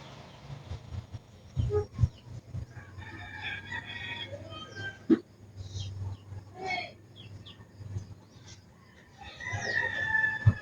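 Several hens cluck and squawk nearby in irregular bursts at feeding time in rural Aklan, Philippines, with a rooster crowing partway through and louder fowl calls toward the end.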